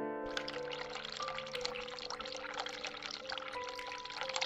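Hot water runs from a tap in The Cat Lady, a steady close pouring splash over a faint tonal hum from the game, with no voices.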